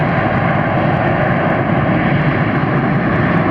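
A heavy airliner carrying a dense cargo load roars steadily down the runway at Atlanta Hartsfield, a loud, unbroken broadband engine rumble held for several seconds.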